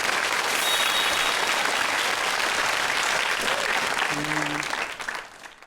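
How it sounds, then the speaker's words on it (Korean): Applause from a lecture audience, loud and continuous for about five seconds before quickly fading away, with a faint voice briefly audible near the end. "박수 한번 주세요"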